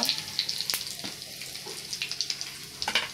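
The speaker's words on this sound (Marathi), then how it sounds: "तेल तापलं आहे, त्यात मी आता टाकते जिरे, मोहरी, हिंग," Cumin, mustard seeds and asafoetida crackle and sizzle in hot oil in a pan, with scattered sharp pops and spits over a steady hiss, close and moderately loud.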